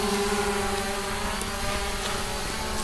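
An MJXRC V6 drone flies nearby with a steady, continuous propeller buzz of layered motor tones, loud and unbroken throughout, with no talking.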